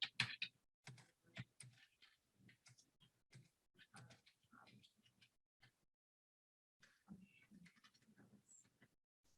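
Computer keyboard typing in short irregular clicking bursts, fairly faint, mixed with quiet low background noise and a brief silent gap partway through.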